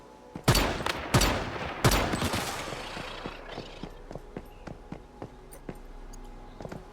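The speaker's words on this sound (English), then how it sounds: "And now we can shoot this guy." Video game gunfire hitting an enemy: three loud, sharp bursts of shots in the first two seconds, then a string of fainter, evenly spaced single shots fading off. No voices.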